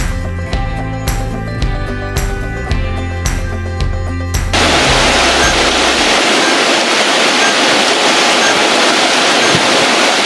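Waterfall on the Isle of Skye, a loud steady broadband roar of falling water that fills the scene after some music fades out, with no voices over it.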